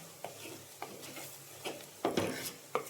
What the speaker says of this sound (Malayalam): ഒന്ന് ഇളക്കി